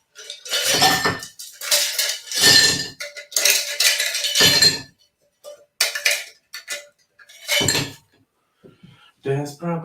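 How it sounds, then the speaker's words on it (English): Ice in a cocktail being stirred, loud bursts of rattling and clinking cubes against glass and metal in uneven clusters, with a voice speaking between them. "we want to put some ice in there and stir it"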